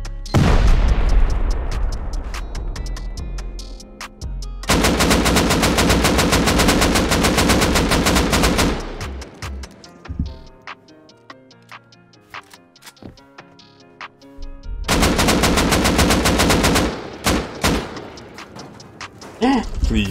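Long sustained bursts of rapid automatic gunfire in the survival video game Rust, loud and dense, stopping for a quieter stretch of scattered shots before another heavy burst and a few final shots.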